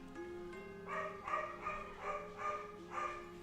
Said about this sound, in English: Sorry for my dog.